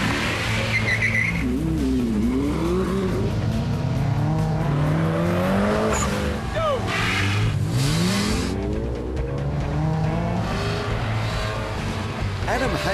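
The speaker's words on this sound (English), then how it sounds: "Adam Hayek in his 1977 Ford Escort RS2000 had problems locating the right gear as he attempted to complete the stage" A 1977 Ford Escort RS2000 rally car works a tight stage of poles and cones in a converted car park, engine revving up and down with sweeping pitch changes and brief tire squeal, close and loud, with talk over it.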